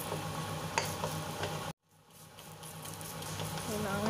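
Food fries in a hot pan for Chinese home cooking, giving a loud, steady sizzle that cuts out for a moment and then builds back up, with a soft scrape as it is stirred.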